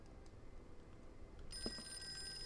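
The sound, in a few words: telephone ringing in Call of Cthulhu video game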